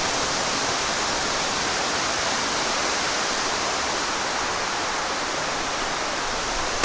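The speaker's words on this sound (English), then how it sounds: "So I found this raging river here, with this little bridge back here that I like." A raging river rushes past near a small bridge, a loud, continuous roar of water that never lets up.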